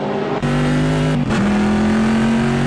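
Onboard sound of a Corvette race car in Assetto Corsa during an endurance race at the Italian Grand Prix circuit, a loud droning engine note holding steady, dipping briefly at a gear shift, then pulling again.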